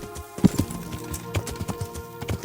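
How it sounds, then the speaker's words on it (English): A horse in the medieval game Kingdom Come: Deliverance, near a blacksmith, gives a few close clip-clop hoof thuds over a busy ambient background. "Whoa, horse!"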